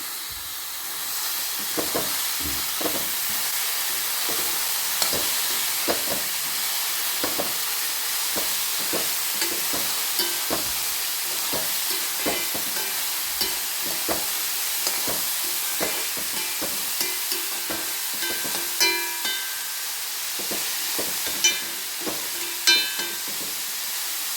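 Small pieces of ivy gourd fry in a pan for a Kerala egg thoran, giving a steady hiss and sizzle with frequent scrapes and clicks of stirring throughout, close and moderately loud, no talking.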